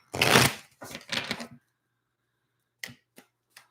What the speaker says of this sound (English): These are having trouble shuffling today.